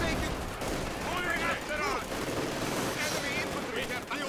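Dense battlefield gunfire rattles through a Company of Heroes 2 Stalingrad rail station fight, with heavy thuds of explosions and voices talking over the din.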